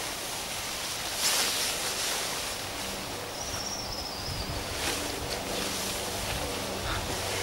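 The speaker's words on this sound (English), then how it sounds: "This wind certainly makes this difficult." Wind blows outdoors while a tarp shelter is being packed away, a steady, rushing broadband roar buffeting the microphone, with a faint swell of stronger gusting near the start.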